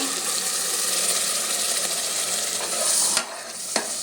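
Masala for pulao fries loudly in oil while being stirred, a close, continuous sizzle with spatula scraping and two sharp scrapes or knocks near the end.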